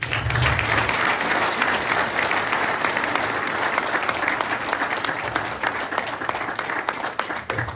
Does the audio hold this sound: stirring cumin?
no